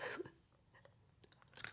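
Close, crisp crunching bites with short bursts of crackle, a few quick chews spread across a quiet moment.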